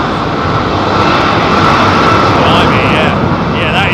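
A jet departs London Heathrow Airport with a loud, sustained, close engine roar that stays full and steady throughout, while people talk over it.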